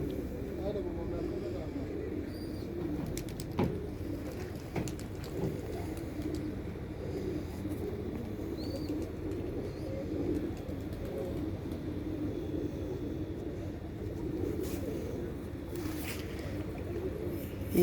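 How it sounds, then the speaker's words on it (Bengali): Pigeons coo softly in a low, continuous murmur, with faint voices and scattered clicks in the background. "এখানে উঠতেছে কবুতর।"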